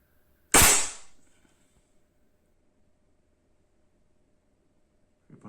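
A single sharp air rifle shot firing an RWS Meisterkugeln pellet through a Black OPS Soul Langley silencer at 10 m, a loud close crack with a brief decaying tail, followed by near silence and a faint click at the end.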